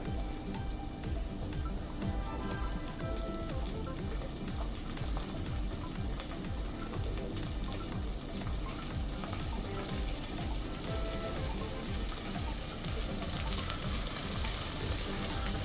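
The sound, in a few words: green chillies and curry leaves frying in oil for lemon pickle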